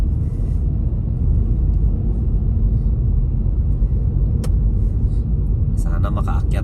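Cars roll past on a snowy road during a snowstorm, giving a loud, continuous low rumble of tires and engine with some brighter hiss near the end.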